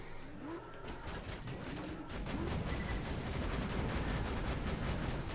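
Rapid turret gunfire in Borderlands 2 rattles on in dense repeated bursts, growing louder and steadier partway through, with whooshing projectile sweeps mixed in and no talking.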